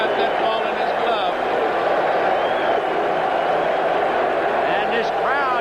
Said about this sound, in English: this crowd is going wild now